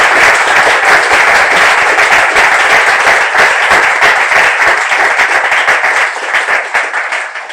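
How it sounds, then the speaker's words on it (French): An audience at a French talk-show debate claps loudly and steadily in sustained applause that fills the room, tapering slightly at the end. "Est-ce qu'on peut applaudir pour elle,"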